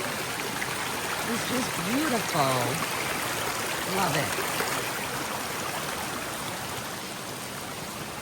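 A creek runs right beside a mountain hiking trail, giving a steady broadband rush of flowing water throughout while a person speaks briefly over it.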